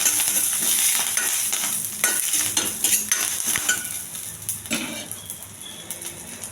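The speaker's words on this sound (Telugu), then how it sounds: "కొంచెం నూనె అండి, కరివేపాకు కొద్ది దూరంగా వేయించాలి" Curry leaves crackle and sizzle in a little hot oil in a pan, close up, with clinks and scrapes of a utensil, the bursts strongest early and fading toward the end.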